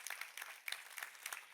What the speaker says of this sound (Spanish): Un aplauso fuerte para ellos que nos verán también.